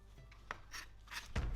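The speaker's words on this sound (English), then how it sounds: "Now I'm just going to julienne this stack into sticks that are about 1/10 of an inch in diameter" A kitchen knife julienning a stack of daikon radish slices into thin lengthwise sticks gives a few quiet, soft strokes and slicing taps ending in a firmer thud on the board, close and faint.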